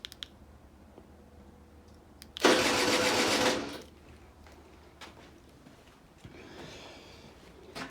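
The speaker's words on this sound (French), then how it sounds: "si maintenant je décide de démarrer la moto à distance, évidemment elle ne démarre pas parce que je n'ai pas mis le réservoir" A Yamaha TZR motorcycle is remote-started through an alarm with no fuel tank fitted: a few faint clicks, then one loud starter cranking burst of about a second and a half that never catches, followed by quiet.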